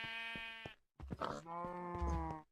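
Two sheep bleats from Minecraft, each a clear wavering baa close up and fairly soft, separated by a short silence, with a faint low thump under the second.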